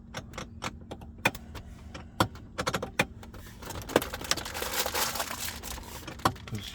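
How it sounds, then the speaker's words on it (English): A car's center console being opened and fiddled with gives a series of sharp plastic clicks and snaps at an irregular rhythm, close by, over a low hum and light rustling, with no talking. "the clicky sounds of my center console"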